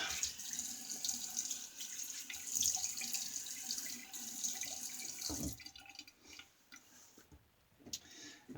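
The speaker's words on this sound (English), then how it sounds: "Quick rinse." Tap water runs steadily into a sink while a safety razor, a Stinger, is rinsed under it, a close, continuous splashing flow that thins and breaks up into lighter trickles near the end.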